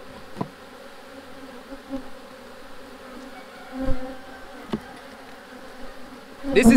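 Honey bees hum continuously during a hive inspection, a close, steady buzz with occasional knocks and clicks of frames being handled and a louder burst at the very end.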